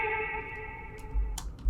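Short vintage-style music sample with reverb and RC20 effects: sustained warbling tones with a lo-fi, washed character, ending in a pair of soft percussive thumps with crackly noise, about two seconds long and fairly loud.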